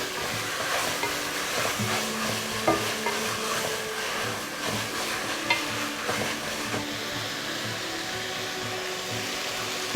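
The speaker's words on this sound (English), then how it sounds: "Put in half of garlic and stir after maybe 1 minute." Garlic stirred as it fries in a pot for seaweed soup, a steady broadband sizzle with scraping stirs and a few sharp utensil clicks, close and continuous throughout with no talking.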